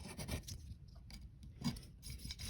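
Coarse sandpaper is rubbed back and forth along the fret edges of a four-string cigar box guitar, giving soft raspy strokes in a loose rhythm with short pauses between them, close and fairly quiet.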